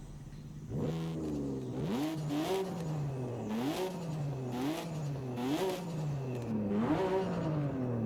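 Toyota Soarer with a 1J straight-six engine, in the racing game Forza Horizon 5, revs repeatedly: the engine rises and falls through a series of close, loud revs with a rasping, harmonic tone and no talking.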